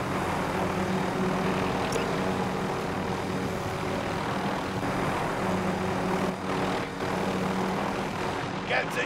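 A helicopter in Call of Duty Warzone flying overhead, a loud continuous rotor and engine drone that stays steady throughout, with a brief dip near the end.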